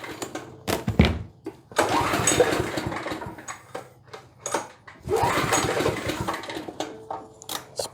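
A used generator bought secondhand sputters and tries to start, with bursts of rough mechanical engine noise and pulling strokes separated by brief pauses, fairly close and moderately loud.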